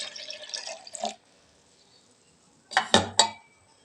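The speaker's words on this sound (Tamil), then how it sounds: "அப்புறம் இந்த ஜூஸ் அந்த ஊற்றிக்கிறேன்" Orange juice is poured in a short liquid stream, followed by silence and then a few sharp knocks and clinks of a container; no talking.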